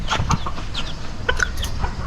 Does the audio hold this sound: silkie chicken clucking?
yes